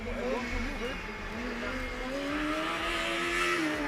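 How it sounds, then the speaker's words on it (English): A Formula Student race car drives through corners during an endurance session, its engine droning and rising steadily with faint tyre noise, heard under continuous commentary. "we can hear the car sliding in the corners"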